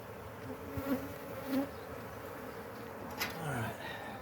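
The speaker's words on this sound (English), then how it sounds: "A little smoke to get the bees out of the crevices." Honeybees buzz faintly around an open hive during a February inspection, a soft, continuous hum with a few brief louder passes of individual bees flying close.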